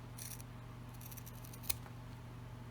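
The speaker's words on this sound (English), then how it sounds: "we've got to cut that piece" Scissors cut a fabric piece for a sewn travel tag, giving a few soft, close snips over a low hum, with one sharp snip standing out partway through.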